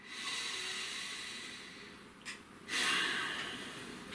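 A deep breath, a faint hissing inhale that drifts for a couple of seconds, then a brief sharp intake and a stronger, louder airy exhale near the mic, with no voices.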